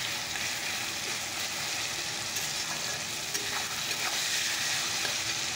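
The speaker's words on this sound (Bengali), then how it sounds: "চলো পেঁয়াজটাকে টমেটোটাকে ভালো করে ভেজে নেই" Onion and tomato frying with salt in a pan over a gas flame, giving a steady close sizzle with soft crackles and no voices.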